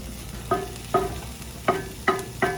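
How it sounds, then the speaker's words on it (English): Thick barbecue sauce bubbles in a pan, giving five distinct soft pops spaced irregularly over a quiet low simmer. "I hear it popping all up"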